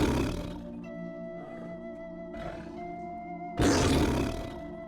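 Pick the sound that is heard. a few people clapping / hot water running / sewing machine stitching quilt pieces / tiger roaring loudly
tiger roaring loudly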